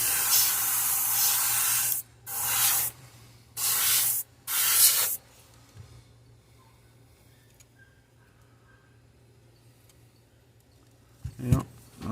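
An airbrush sprays paint onto a largemouth bass pattern fishing lure in four short hissing bursts, close and clear, followed by quiet room tone with a faint hum.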